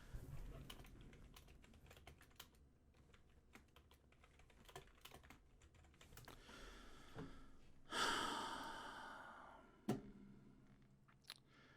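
Typing on a computer keyboard, quiet scattered key clicks in short bursts, with a louder rustle or handling noise near the end, in a quiet room.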